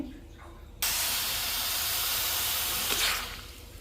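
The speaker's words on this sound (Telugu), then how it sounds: "సో ఇనుప బాండిలో నేను ఇప్పుడు మొత్తము ఇది వెన్నంతా వేసేస్తున్నాను" Butter dropped into a hot iron pan for making ghee, bursting into a loud steady sizzling hiss that runs for a few seconds before easing off.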